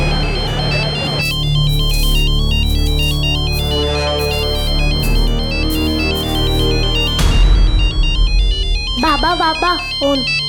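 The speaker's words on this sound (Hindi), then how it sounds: "बाबा फोन।" A telephone ringtone plays a loud, repeating electronic melody for several seconds, the phone sitting close by in a crime drama scene, before the tune breaks off and other sounds follow.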